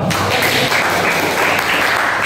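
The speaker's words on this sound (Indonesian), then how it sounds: "beri tepuk dong" A class or seminar audience gives a short round of applause, a dense wash of many hands clapping together, steady and fairly loud throughout.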